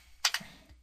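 A couple of quick, faint keystrokes on a computer keyboard, two close clicks followed by a soft tap, heard alone in a quiet room.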